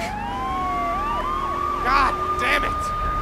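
An ambulance siren wails in Grand Theft Auto 3, a close, looping rising-and-falling tone that runs throughout, with brief yelping bursts layered over engine noise.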